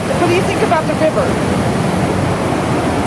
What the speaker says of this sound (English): Tay, what do you think about the river?